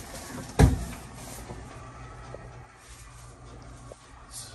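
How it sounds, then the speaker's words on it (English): A hotel room door slams once near the start, a single short thud, followed by quiet room tone. "you should slam the door"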